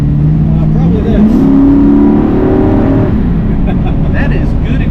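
A 1971 Pontiac Firebird Formula accelerates hard, its engine note climbing and holding a loud, close roar for a couple of seconds before easing off, with wind and road noise from inside the car.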